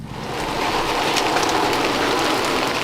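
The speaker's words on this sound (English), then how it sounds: "Getting wet in the rain." Steady rain falls at a campsite in the Pacific Northwest during snowy off-road camping, a dense continuous hiss of drops on surfaces that holds at an even level throughout with no voices.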